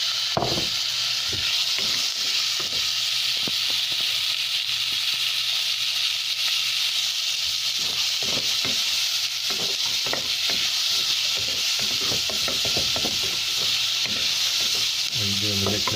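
Pork frying in a pan for ginataang monggo, a steady loud sizzle with repeated scraping stirs of a utensil against the pan, hardly any talk.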